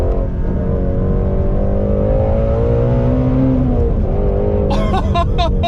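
Ford Shelby GT350R V8 engine revving loudly as the car accelerates, with steady rising engine tone throughout and a burst of higher whine near the end, close and continuous.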